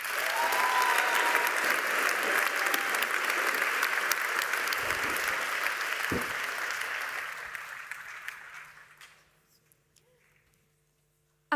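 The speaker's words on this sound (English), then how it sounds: "Let's give her a round of applause." Loud, dense applause from a gym full of students for a student speaker at a closing ceremony, holding steady for several seconds, then tapering off into near silence.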